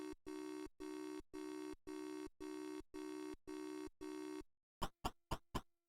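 In the C64 game Maniac Mansion, an electronic telephone ring sounds eight times as steady, evenly spaced buzzing bursts. Four quick clicks follow after a short gap. The sound is synthetic and there are no voices.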